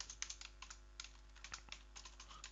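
Rapid, uneven keystrokes on a computer keyboard while typing Go code, close and fairly quiet, a steady patter of light clicks with no voices.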